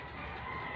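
A small chicken on a mini farm gives a brief clucking call, quiet and close, lasting under a second.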